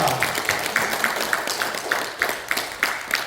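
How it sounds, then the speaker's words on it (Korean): A church congregation claps together in a steady, even rhythm of quick repeated beats, moderately close, with no voices over it. "박수, 우리 서로 박수합시다."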